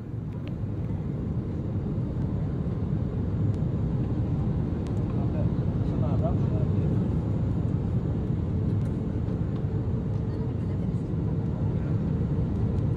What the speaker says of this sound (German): das ist der Abflug aus Beirut